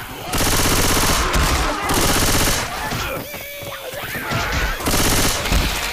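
Gunfire in the video game Left 4 Dead 2, loud rapid automatic bursts of shots in long sustained volleys with brief pauses, game voices and effects heard in between.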